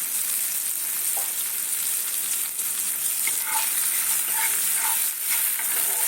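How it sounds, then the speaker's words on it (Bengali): Tomatoes sautéing in a pan for a hilsa fish curry give a steady, close sizzle and frying hiss with faint stirring clinks, no voices. "এইভাবে টমেটোটা একটু সাঁতলে দিলে ভালো লাগে"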